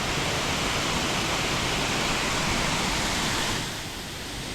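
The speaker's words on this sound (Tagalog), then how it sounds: "Papunta dito, waterfall yan." A tall waterfall in a forest roars as a steady, dense broadband rush, loud and unbroken, easing slightly in the last second with no voices over it.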